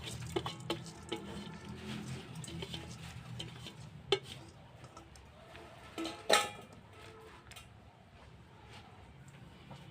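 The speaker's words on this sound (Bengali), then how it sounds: "এরপর কড়াইতে দিয়ে দিলাম সিদ্ধ খাবার ধানের চাউল," Boiled rice grains pour into a wok while making gourd rice porridge, giving a soft, faint patter with a few sharper clinks against the pan in a quiet kitchen.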